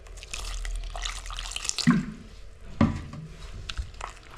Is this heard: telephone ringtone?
no